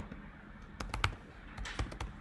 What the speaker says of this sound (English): If you wonder what I'm typing right now, that's exactly what I'm doing.